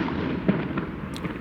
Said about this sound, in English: Firework, that happens a lot here.